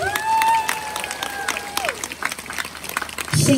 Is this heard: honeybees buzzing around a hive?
no